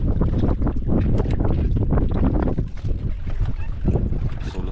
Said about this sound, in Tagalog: Hangin lang, mahangin kasi.